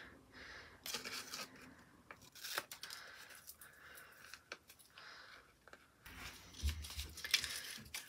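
Quiet snipping and rustling of scissors cutting paper, a series of irregular crisp cuts close by with soft paper handling between them.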